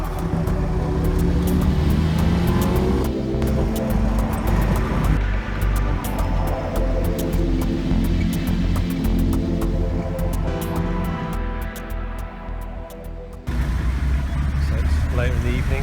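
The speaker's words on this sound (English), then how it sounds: "we're going to get tuk-tuk to the hotel somehow" Tuk-tuk ride through the streets of Chiang Mai, with a loud, steady engine drone and road rumble throughout, traffic noise around it and passengers talking over it.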